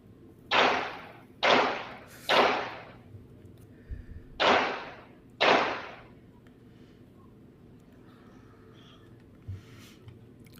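Five loud, sharp gunshot cracks captured by a Ring doorbell camera outdoors, fairly close, coming in an irregular burst of three then two over about five seconds, followed by quiet background with no talking.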